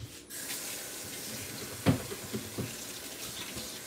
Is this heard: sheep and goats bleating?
no